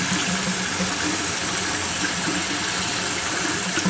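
Tap water gushes steadily and loudly while grated potatoes are rinsed for hash browns, a continuous dense splashing stream with no talk.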